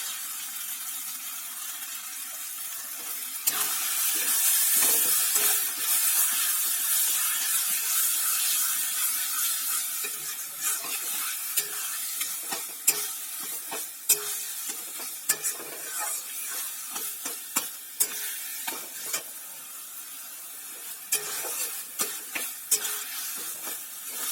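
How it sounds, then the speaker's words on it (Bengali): Taro greens cooked with hilsa fish head and sugar being stirred in a pan, a loud steady sizzle at first, then settling into quieter frying broken by repeated sharp scrapes and taps of the spatula, with no talk. "চিনি দিয়ে আমি শাকটা ভালো করে নাড়াচাড়া করছি।"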